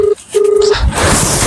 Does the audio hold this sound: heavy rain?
no